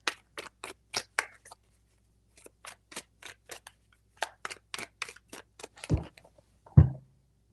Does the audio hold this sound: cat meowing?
no